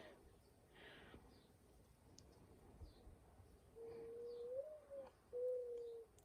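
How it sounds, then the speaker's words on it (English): After a few seconds of quiet outdoor background, a pigeon gives soft, low cooing calls in two short phrases near the end. "Hear the pigeon saying thank you for saving our lives."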